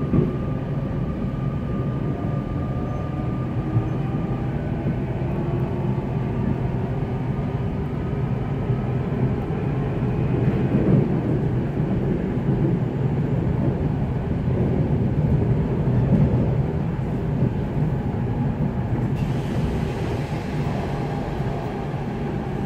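A Z20900 Transilien train on RER line C in the Paris area, heard from inside as a steady, loud rumble of wheels and running gear that continues without a break.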